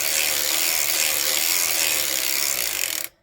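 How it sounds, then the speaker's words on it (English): A circular sock knitting machine turned by hand crank, giving a steady dense whirring, clicking mechanical rattle for about three seconds that stops abruptly at the end. "I don't want to cut all my waste yarn, so we're just going to crank."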